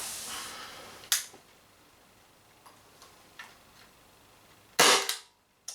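Shots from a power-tuned Umarex Impax P68 air pistol ring out as a few sharp, close cracks, one near the start and a louder one near the end, with faint clicks between.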